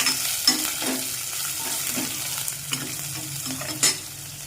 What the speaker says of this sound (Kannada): ಸ್ವಲ್ಪ ಉದ್ದಿನಬೇಳೆ ಹಾಕ್ತಾಯಿದ್ದೀನಿ. ಮತ್ತು 2 ಮೆಣಸಿನ್ಕಾಯಿನ ಚಿಕ್ಕದಾಗಿ ಕಟ್ ಮಾಡಿ ಹಾಕ್ತಾಯಿದ್ದೀನಿ